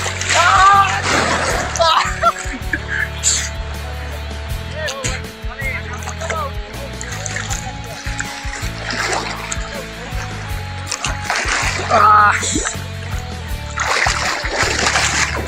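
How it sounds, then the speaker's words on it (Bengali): Sea waves splashing and sloshing close by in repeated surges at Golden Beach, Dipkarpaz, North Cyprus, in rain, with people talking over it. "দেখেন এই ঢেউটুগুলো দেখেন ঢেউ"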